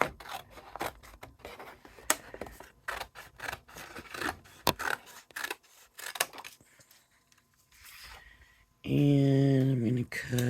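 Scissors cut through scored white paper for a handmade card in a series of close, crisp snips and rustles, then a sustained tonal hum near the end.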